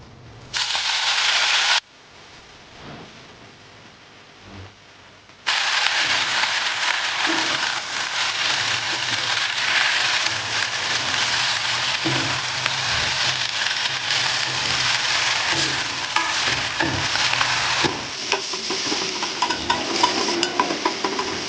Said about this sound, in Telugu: ఇందులో ఇంకా కొంచెం ఒక స్పూన్ ఆయిల్ వేసుకొని ఈ కడిగి పెట్టుకున్న గోంగూర ఇందులో వేసేసుకుందాం